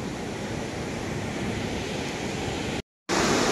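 Water rushes out over rocks at Bhatinda Falls in Jharkhand, a loud, dense, unbroken roar of falling water heard close, with a brief cut to silence near the end before the roar resumes.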